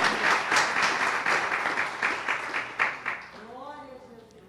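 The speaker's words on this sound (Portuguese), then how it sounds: "Aplauda o Senhor com o seu melhor." Congregation applause during a church service at Igreja de Nova Vida do Catete, with rhythmic clapping filling most of the clip before fading as a voice begins speaking near the end.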